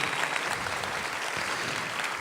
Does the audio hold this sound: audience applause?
yes